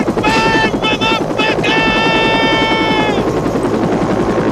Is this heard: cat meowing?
no